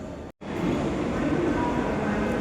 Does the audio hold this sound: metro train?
yes